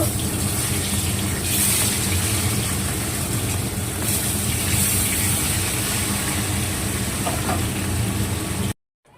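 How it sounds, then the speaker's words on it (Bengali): Catla fish pieces fry in hot oil, giving a dense, even, continuous hiss and crackle that stays loud and steady for several seconds before cutting off abruptly at the end. "তেল গরম হয়ে গেছে এবার মাছটা ভেজে নেব কাতলা মাছ"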